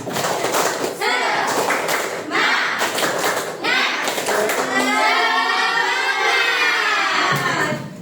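A school class performing a rhythmic spirit clap, loud group claps in quick patterned bursts mixed with children chanting and shouting together, close and energetic throughout.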